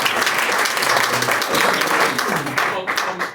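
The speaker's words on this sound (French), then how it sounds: "Il faut bien acclamer, hein." An audience applauding at a Forever Living open day gathering in Togo, dense steady clapping from a crowd, close and loud, with a voice speaking over it.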